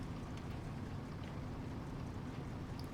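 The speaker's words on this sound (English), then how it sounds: "I do feel like the Fleet Star has the nicest sounding engine." A Fleetstar truck engine in the SnowRunner video game rumbles as a steady, dense low drone with no breaks, running continuously throughout.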